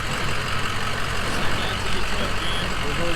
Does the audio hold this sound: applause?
no